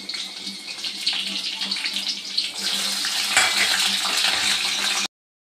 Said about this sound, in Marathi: तर आता मस्त कढईमध्ये सर्व मिरच्या घेते तळून